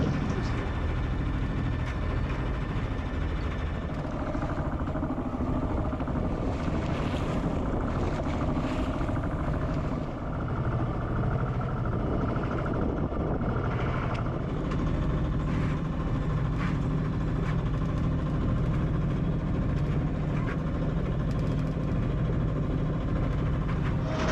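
A junk-rigged sailboat motors under engine power on a long passage toward Corsica, giving a steady, continuous engine drone mixed with water noise around the hull, constant in level throughout with no talk.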